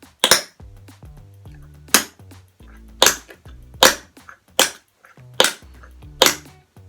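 Sharp, snappy knocks of a dance shoe heel striking the floor in a bad drop, about eight separate hits spaced roughly a second apart, some showing a quick double impact, close and dry with no talking.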